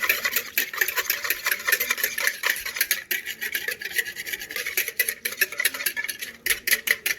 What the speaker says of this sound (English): I want you to kind of mix it together.